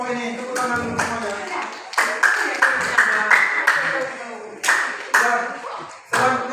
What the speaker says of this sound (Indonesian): Tepuk tangan dulu semuanya